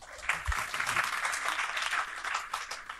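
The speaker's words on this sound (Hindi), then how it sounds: "तालियां बजा लें बस" Applause during a lecture, a dense, even wash of clapping that carries steadily at moderate volume for a few seconds without breaks.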